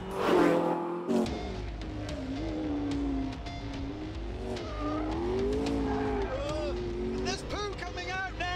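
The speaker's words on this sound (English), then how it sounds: "It's spinning its wheels in sixth" A McLaren supercar spins its wheels in sixth gear, a loud, sustained engine roar rising and falling with tire noise, close by, as someone talks excitedly over it.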